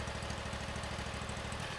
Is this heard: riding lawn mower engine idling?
yes